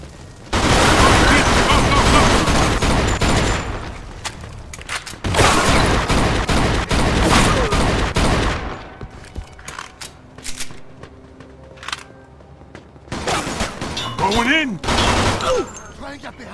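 Gunfire in a Mafia 2 shootout: loud bursts of rapid shots in dense clusters, separated by quieter stretches with scattered single shots and voices.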